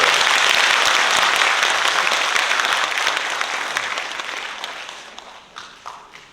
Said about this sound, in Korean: 큰 박수로 감사의 박수 한번 드립니다